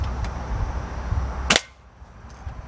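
One sharp, snappy shot from an airsoft bolt action rifle, close and crisp, rising out of a low steady background hum with nothing else following.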